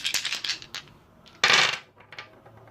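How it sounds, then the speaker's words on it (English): Dice for the Justice League Hero Dice board game rattle and clatter onto a table, a burst of quick clicks followed by a louder tumbling roll, close and with no talk. "So we start by rolling our dice."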